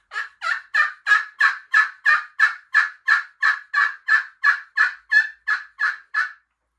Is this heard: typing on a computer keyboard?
no